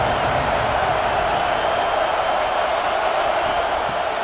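A stadium crowd roars steadily on a big third down in the EA Sports College Football 26 video game, a loud, unbroken wash of cheering and noise with no clear break.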